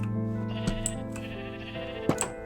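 Sheep bleating in the Minecraft video game, two short bleats about a second and a half apart over a soft, steady musical background.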